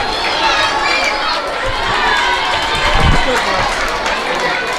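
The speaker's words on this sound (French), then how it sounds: "Et c'est parti, applaudissez." Dense crowd clapping and cheering at a school's 2024–2025 end-of-year results proclamation at Institut Tangila, a steady loud wash with voices shouting within it.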